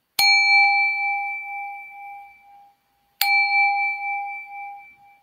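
A meditation singing bowl is struck twice, each strike a bright metallic ding followed by a long, steady ringing sustain that slowly fades, with a short silence between the two strikes.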